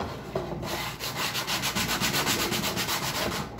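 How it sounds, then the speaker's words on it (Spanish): A wooden hoop is sanded by hand with sandpaper in a workshop, giving a steady close scratchy rasp in quick back-and-forth strokes that run continuously. "Primero lijo esta parte de aquí para lograr que entre"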